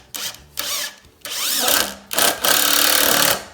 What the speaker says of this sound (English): go ahead and screw this in place